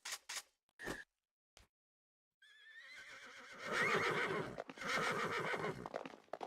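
Horses in the strategy game Battle Realms neigh loudly in a long, wavering whinny after a few sharp clicks, followed by more rough snorting and shuffling hoof noise, with no speech.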